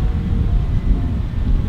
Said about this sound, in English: It wasn't windy before, but it is.